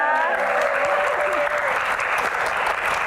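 A television studio audience at a dangdut music show applauds for a singing trio, broad continuous clapping that holds loud and even throughout, with a host's voice fading out at the start.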